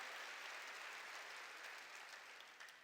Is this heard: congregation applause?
yes